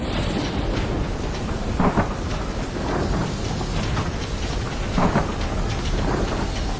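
Heavy thunderstorm over farmland in an animated Hindi story, with dense, steady pouring rain and deep rolling thunder swelling in repeated surges, loud and continuous throughout with no speech.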